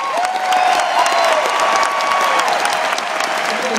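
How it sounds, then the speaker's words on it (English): A large crowd at a 2012 Ron Paul liberty rally in Tampa breaks into sustained applause, dense clapping with some cheering and whistles, loud and steady throughout. "I think he deserves a round of applause"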